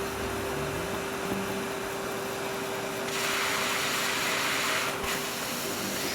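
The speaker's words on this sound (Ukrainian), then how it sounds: "це пилосос? Серйозно? пилосос, я боялась пилососа." A steady, loud whooshing drone of a vacuum cleaner in a Roblox video game runs throughout, swelling brighter and harsher partway through before easing back.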